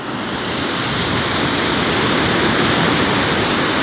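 Sea surf washes against the shingle beach at Lulworth Cove as a steady, loud, unbroken rush of noise, with no voices present.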